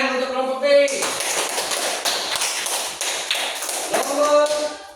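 Students in a classroom burst into loud, dense clapping for group B, with a short moment of talk just before the applause and again as it ends.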